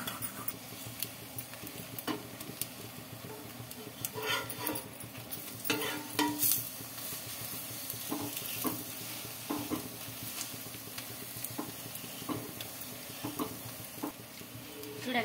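A roti cooks on a hot pan with oil brushed on, giving a steady close sizzle with occasional scrapes and clinks of a utensil against the pan throughout.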